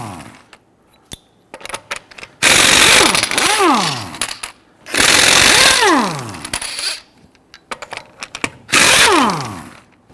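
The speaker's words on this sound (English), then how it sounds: "Using a 19mm socket, we're going to go loosen and remove our lug nuts." A power impact tool loosens the 19mm lug nuts on a 2010-2019 Ford Taurus front wheel, three loud whirring, rattling bursts with falling pitch, separated by quieter clinks and handling noises.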